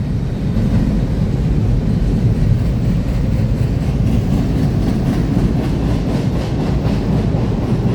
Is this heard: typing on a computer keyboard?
no